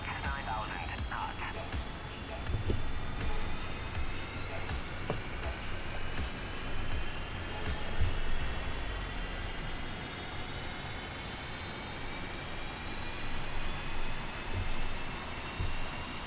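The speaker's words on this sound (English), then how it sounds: "engine's not spun up yet, so we gotta wait a while before they come on" F-5 jet engine spooling up in the DCS flight simulator, a steady whine and rumble that slowly rises in pitch while a voice talks over it.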